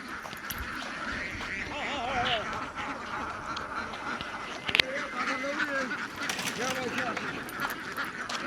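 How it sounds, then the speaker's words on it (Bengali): A flock of domestic ducks quacks and honks in a Bangladeshi village, the calls coming repeatedly at close to mid range over open outdoor ambience, with faint voices now and then. "তো যাইতেই দেখতেছি এখানে হাঁস অনেক"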